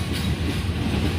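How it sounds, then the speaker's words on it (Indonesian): Lodaya passenger train passing close on the railway near Bandung station, a loud continuous rumble of wheels and cars rolling by. "Tuh, pas banget ada kereta apa ini?"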